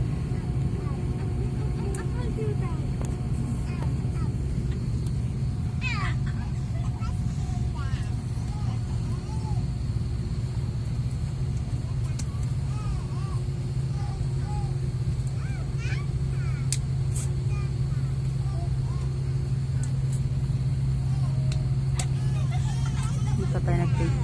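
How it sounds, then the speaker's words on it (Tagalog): Inside an airplane taking off from Ben Gurion Airport in Tel Aviv, a steady loud engine and cabin roar rumbles throughout, with cabin chatter faintly underneath. "Dito tayo nag-take off."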